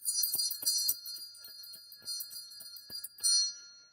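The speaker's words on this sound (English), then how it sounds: "So it is choice of the Cardinal Bell or the Christmas 2001 Bell." Small ornament bells, a cardinal bell and a Christmas 2001 bell, ring in a series of bright, close tinkling strikes, several short hits with ringing overtones, heard alone.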